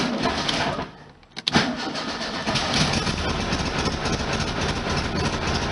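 A 1973 VW Super Beetle engine cranks after a brief hush, catches, and settles into a loud, steady air-cooled idle close by, with no talking.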